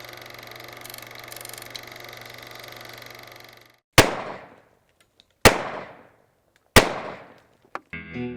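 Three loud, sharp gunshots from a 10 millimeter Model 20 handgun ring out about a second apart on a deer and hog hunting ranch, each trailing off in a short echo after a stretch of steady outdoor background noise.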